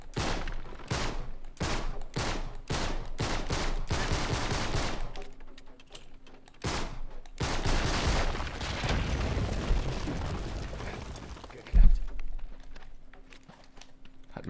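Rapid video-game gunfire in Uncharted 3: Drake's Deception, set in the Rub' al Khali desert, with a string of loud close shots, bursts of sustained automatic fire and a heavy thump near the end, dense and continuous throughout.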